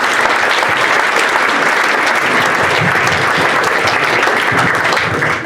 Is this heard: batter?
no